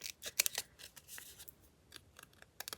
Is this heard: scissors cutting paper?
yes